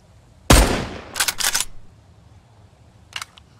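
A single sharp, loud gunshot rings out in the zombie survival game Mist Survival. Brief metallic clattering follows, then a faint click a couple of seconds later.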